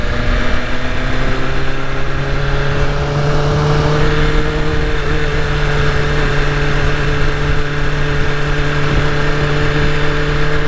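A BMW S1000RR motorcycle engine revving while being ridden, a loud, close, sustained drone whose tone climbs and falls steadily with throttle, over rushing wind noise.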